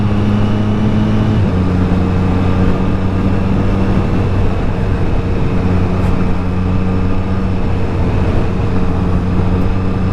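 A Triumph Street Triple RS motorcycle is ridden at a steady pace, its engine a continuous loud drone with wind rush and a brief shift in pitch early on.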